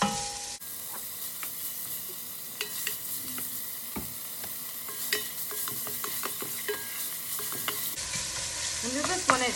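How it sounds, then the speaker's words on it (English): Chopped pancetta and fennel sizzle and fry in a pan while a utensil stirs and scrapes through them in irregular clicks and scuffs, close and moderately loud, with no talking. "I'll also take chopped up pancetta. I'll put that in. And this, you'll kind of stir it around a little bit."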